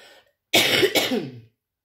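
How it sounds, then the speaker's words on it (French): A single harsh, close smoker's cough bursts out loudly, breaking into two quick rough hacks before fading. "je fais que ça, tousser, ça me saoule"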